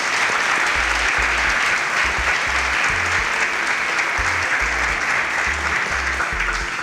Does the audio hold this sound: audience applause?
yes